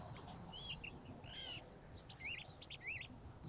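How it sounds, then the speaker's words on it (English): A curve-billed thrasher calls in New Mexico high desert with faint, distant rising whistled notes, some in quick pairs, over a constant low background rumble. "The curve-billed thrasher lives here."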